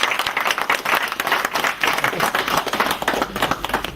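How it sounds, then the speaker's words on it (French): Audience at a congress hall applauds steadily with dense, continuous clapping that stays loud and even throughout, with faint voices mixed in underneath. "il faut l'applaudir"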